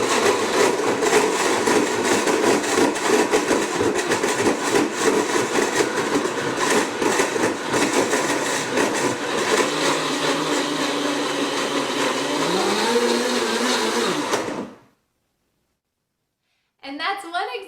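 A kitchen blender whirs loudly and steadily while blending broth, the motor pitch shifting partway through before cutting off abruptly, followed by a brief silence and a short burst of noise.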